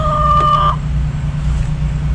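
Backyard chickens in a coop after a storm give a short, bright, drawn-out call near the start, then only steady low rumbling background remains.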